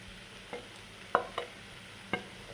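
Chopped boiled eggs, cut with their yolks, are added to a pan for egg thoran and stirred, giving four sharp spoon scrapes and taps against the pan over a faint, low sizzle, quiet and close.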